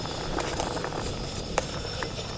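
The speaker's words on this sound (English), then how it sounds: "Looks like we're boiling." Water and lentils boil in a pot on a camp stove, giving a soft, steady hiss with faint bubbling pops, heard close and alone.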